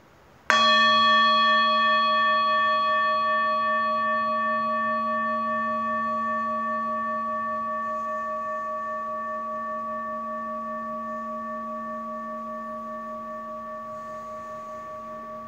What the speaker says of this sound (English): I'm going to sound the meditation bell